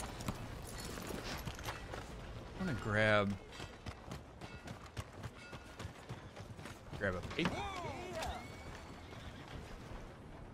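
A horse in the video game Red Dead Redemption 2 clip-clops along with steady hoof beats, letting out two loud, close whinnies, while someone talks over it.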